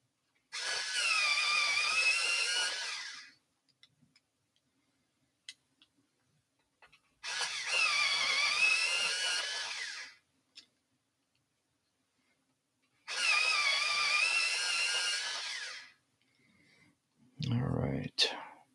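A pencil sharpener grinds colored pencils in three separate bursts of about three seconds each, loud and close, with quiet pauses between and a short knock at the end.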